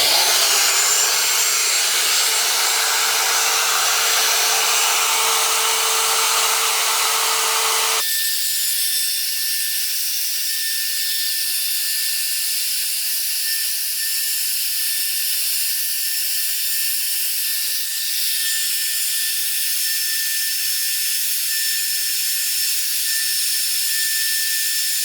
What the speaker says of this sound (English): it works best counterclockwise when you're moving the router